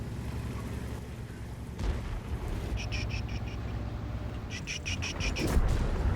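A Ho-Ri 3 tank destroyer's main cannon fires in a video game, a single deep boom near the end over a steady low engine rumble, with brief tonal beeps earlier.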